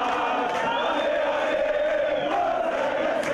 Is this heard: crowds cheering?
yes